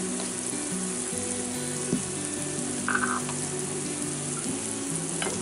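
Chicken and curry powder sizzle and fry steadily in a cast iron Dutch oven, a soft constant crackle with a few scraping stirs and clinks, fairly quiet and without talk.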